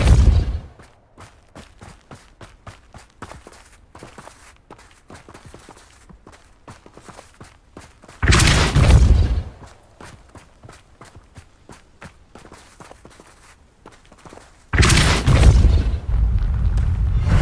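Two heavy, booming blasts of the Repulsor spell in Hogwarts Legacy burst out a few seconds apart, with quick footsteps and light clatter between them.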